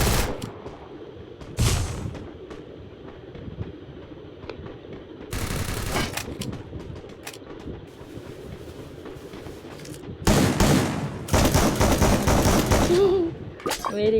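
Rapid bursts of automatic gunfire from a shooting video game, several loud sustained volleys separated by quieter game ambience, with faint speech at times.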